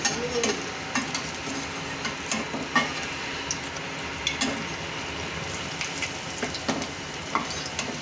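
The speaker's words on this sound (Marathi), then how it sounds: "गॅस कमीच ठेवायचा, फुल गॅसवर तळायचे नाही आहे, कमी गॅसवरच तळायचे।" Pakoras frying in oil over a low flame, a steady soft sizzle with faint crackles and occasional stirring clicks, close and continuous with no voices.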